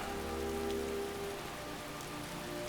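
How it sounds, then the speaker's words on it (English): Steady rain in a video game pattering on a surface, a continuous wash of drops with a low hum underneath, no voices. "Caught in the rain."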